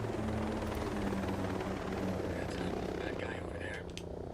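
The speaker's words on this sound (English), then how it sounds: "We got a chopper in the skies." Enemy helicopter in the video game Ghost Recon Breakpoint, a faint steady rotor thrum droning overhead with little change across the short stretch.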